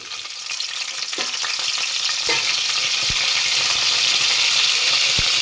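Fennel seeds and curry leaves sizzle and crackle in hot oil in a pan, a steady loud frying hiss that swells and holds, with a few sharp pops and light stirring clatter; no voices.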